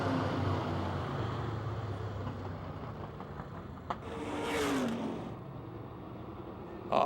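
UMP Modified race cars roar around the Pennsylvania Motor Speedway oval in Pittsburgh, a steady loud engine drone with a brief rising pass near the middle and a sharp bang near the end.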